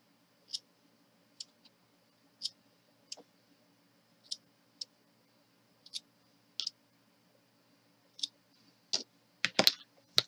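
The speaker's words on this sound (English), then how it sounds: "And we take our scissors and clip those off." Scissors snip off the woven-in yarn ends of a colorful knitted rainbow scarf. About a dozen short, crisp, quiet snips come at irregular intervals, close up in an otherwise quiet room, with a small flurry at the end.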